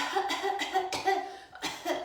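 Several short bursts spread across two seconds, harsh and close, like a person coughing repeatedly with brief pauses between.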